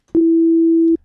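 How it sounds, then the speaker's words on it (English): A pure sine wave tone from the Synth1 software synthesizer's default patch holds steady and loud for just under a second, starting and stopping with soft clicks, alone. "Sine wave."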